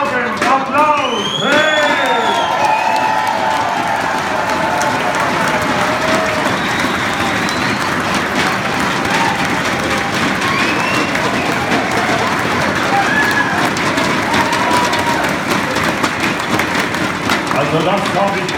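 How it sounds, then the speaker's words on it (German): Audience applause in a hall during a Rankweiler ball, a dense steady wash of clapping with cheers and crowd noise, joined by a voice near the start. "Applaus!"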